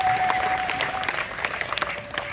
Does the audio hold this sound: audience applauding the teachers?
yes